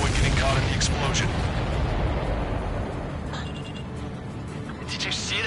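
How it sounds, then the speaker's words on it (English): Supply ship blowing apart in the Ace Combat 7 flight game, a loud sustained rumbling blast with crackling debris that slowly fades, while voices talk over it. "Did you see that explosion?"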